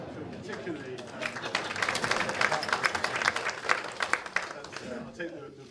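Audience applause at a political conference in Manchester, a dense wash of clapping with crowd murmur, building and holding steady for several seconds before tapering.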